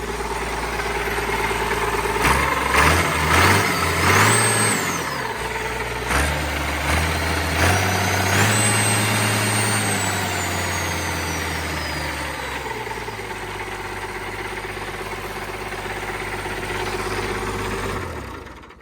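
Allis Chalmers 190XT tractor engine running steadily with a loud, rising-and-falling whine from its worn hydraulic pump, heard up close and alone for the whole stretch.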